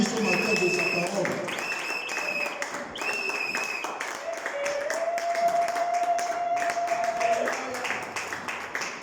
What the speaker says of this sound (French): Mettons-nous tous debout et applaudissons pour lui.